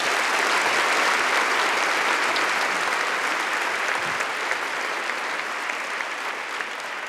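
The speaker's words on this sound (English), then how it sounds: "So let's give them a big round of applause." Sustained audience applause at an afternoon session of a talk event, a dense steady wash of many hands clapping that holds loud throughout and eases only slightly toward the end.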